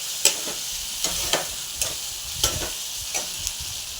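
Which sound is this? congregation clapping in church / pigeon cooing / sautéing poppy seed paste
sautéing poppy seed paste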